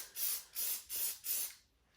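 Plasti Dip aerosol spraying onto a fifth-generation Chevrolet Camaro wheel in four steady back-and-forth hissing bursts, close and fairly loud, each about a third of a second, then a brief pause.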